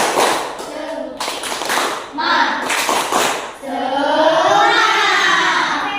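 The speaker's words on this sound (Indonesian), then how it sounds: "sekarang tepuk semangat dulu biar semangat sebelum belajar" A school class claps in short rhythmic bursts between chanted children's voices, a lively classroom clapping chant led by a teacher before a lesson.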